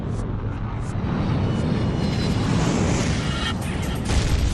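American Airlines Flight 77, a jet airliner, dives toward the Pentagon, its engines making a loud, dense, continuous roar at close range.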